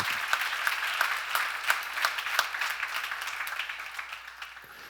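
A church congregation breaks into applause during a sermon, a full burst of many hands clapping with distinct sharp claps standing out, gradually tapering off near the end.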